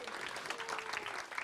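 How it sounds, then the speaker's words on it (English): Brief, faint clapping from an audience at a Sister Cities association annual meeting, a soft scattered patter lasting just over a second. "Let's give a round of applause."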